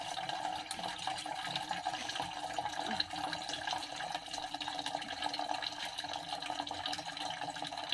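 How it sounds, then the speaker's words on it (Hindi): Water runs from a household tap into a container in an Indian home, a continuous splashing trickle with occasional drips, fairly close and without talk. "मैं पानी अभी भरता हूँ"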